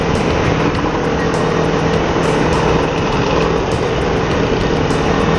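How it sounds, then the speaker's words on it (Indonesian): Kawasaki Ninja motorcycle with a carburetor engine, fitted with an R25 aftermarket exhaust, idling steadily and loudly up close, a continuous rough, buzzing drone with a faint regular ticking above it and no talk. "Ini lagi coba tes knalpot R25 ya bro, pasang di Ninja Karbu nih bro."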